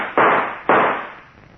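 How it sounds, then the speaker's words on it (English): Two loud, close gunshots from an old-time radio drama, fired about half a second apart, each a broad blast with a short fading tail. "then I'll shoot"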